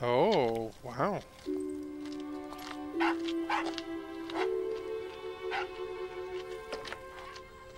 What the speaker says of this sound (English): That dog does not sound very happy.